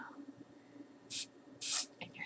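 Two short, close hissing bursts of Vichy thermal spring water sprayed into the hands, with quiet background sounds between the sprays.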